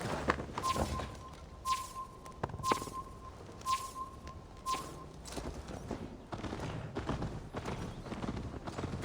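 Horse hooves clop in a steady trot in the video game Assassin's Creed Valhalla, fairly soft, with a repeating bell-like chime over the first half and a few dull thumps.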